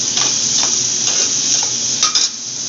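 Garlic frying in a pan for brinji rice gives a loud, steady, close hiss, broken by a few light clinks of a spoon against the pan, with no one speaking.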